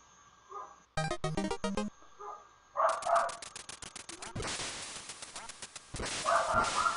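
Dog from the Duck Hunt video game: chiptune yips and barks in short, rapid bursts, repeated several times between bright electronic game blips and noise bursts, loud and close.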